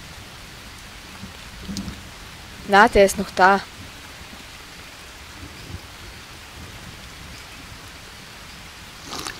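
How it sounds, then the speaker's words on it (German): Steady rain falls at night in the survival video game Green Hell, a soft continuous hiss with a faint distant rumble, briefly interrupted by a short spoken phrase. "Es regnet selbstverständlich."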